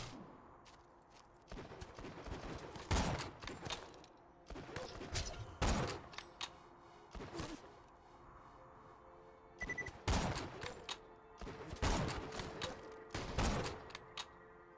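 Bursts of gunfire from the co-op shooter Borderlands 2, arriving in several clusters of rapid shots with short gaps of quieter game noise between them, loud and close.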